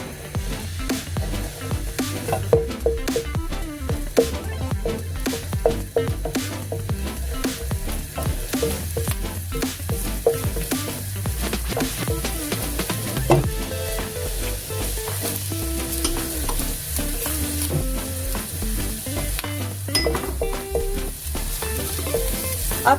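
Chicken quesadilla filling sizzles steadily in a hot pan, a close, continuous frying hiss with occasional crackles and stirring sounds throughout.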